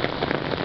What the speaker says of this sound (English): floods caused by heavy rains